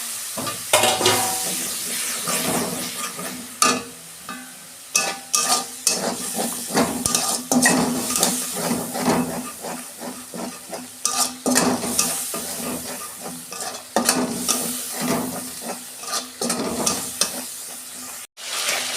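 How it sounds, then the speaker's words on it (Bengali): Spice masala with ground coriander and a splash of water frying in a pan for a cabbage dish, a steady sizzle broken by repeated scraping and stirring strokes of a spoon against the metal, close and without talk. "অল্প জল দিচ্ছি, মশলাটা কষাবো।"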